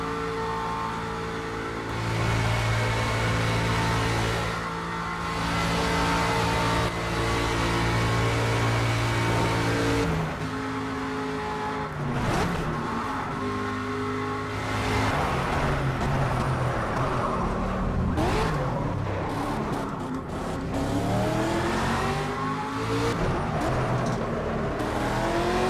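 Aston Martin V8 Vantage GTE race car in Project Cars, its V8 engine droning and revving continuously through gear changes, loud and close, with rising and falling pitch as it accelerates and brakes.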